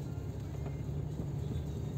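A car drives at night past cornfields with a low, steady engine and road rumble heard from inside the cabin, fairly quiet and unbroken.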